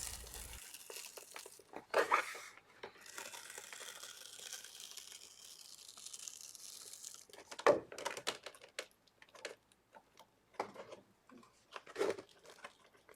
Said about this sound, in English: I'm lifting the chipboard off the mat a little bit.